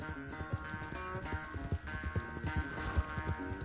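Horse hooves clip-clopping at a steady gallop in the video game Red Dead Redemption 2, a rapid continuous rhythm of mid-level thuds with a soft tonal backdrop and an occasional snort.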